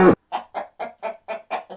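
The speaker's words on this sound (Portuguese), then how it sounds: "Galinha." A farm hen clucks in a steady series of about seven short, evenly spaced clucks, close and clear, after an opening louder squawk-like burst, with no other sounds around it.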